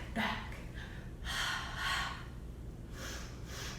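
Repeated breathy exhalations during a Pilates side kick, several soft airy puffs and longer breaths spaced irregularly over a quiet background.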